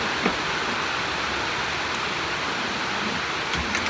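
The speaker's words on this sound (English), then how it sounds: "It's raining pretty hard." Heavy rain pouring down steadily, a dense, constant hiss with no pauses and no voices.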